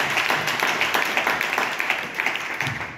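An audience claps steadily and warmly at a gathering, a continuous spatter of many hands that holds at an even level throughout with no voices on top.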